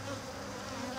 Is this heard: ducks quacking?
no